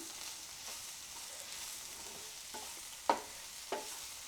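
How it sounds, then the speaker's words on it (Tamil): A carrot and bitter gourd stir-fry with masala and salt is stirred in a pan, giving faint scraping and a soft sizzle with a couple of sharper spoon clicks near the end. "இப்போ எல்லாம் ஒன்றா சேர்த்து நல்லா கிளறலாம்"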